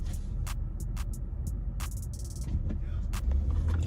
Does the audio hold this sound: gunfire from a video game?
no